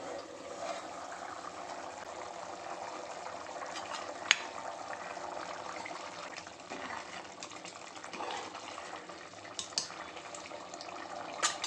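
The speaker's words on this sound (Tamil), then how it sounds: "குழம்பு நல்லா கொதிச்சிச்சு" A pot of fenugreek curry simmers quietly, with soft continuous bubbling and a few small pops and clinks, faint and steady with no talking.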